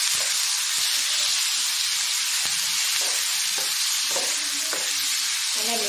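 Chopped tomatoes and onions sauté in a pan with a dense, steady hiss of frying, while occasional scraping strokes and light knocks of the spoon sound close by.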